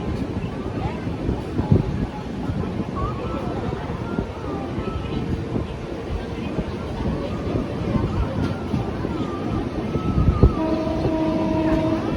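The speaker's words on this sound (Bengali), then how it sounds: "এখন ট্রেনটা চলে এসছে" A train rumbles in steadily, its heavy rolling noise building over several seconds, with a horn-like tone sounding near the end.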